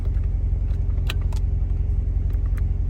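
A 2014-2019 C7 Corvette idling, a steady low engine hum close by, with a few faint light clicks and jingles layered on top and no talking.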